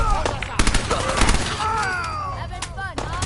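Gunfire from the Fallout video game: a series of sharp, closely spaced shots and bursts under a voice, which carries through most of the stretch.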